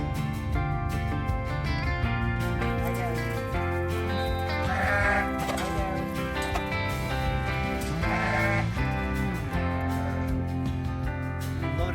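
Sheep bleat repeatedly, several overlapping calls wavering up and down, heard fairly close with a steady rural background.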